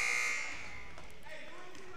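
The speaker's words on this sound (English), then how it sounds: "the buzzer's going to go off" A basketball game buzzer at an all-star game blares loudly for about half a second at the start, then fades into arena crowd noise and murmuring voices.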